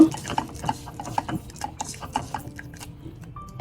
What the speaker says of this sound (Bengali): তেলটা দিয়ে আমি আরও ভালোভাবে মিক্স করে নিব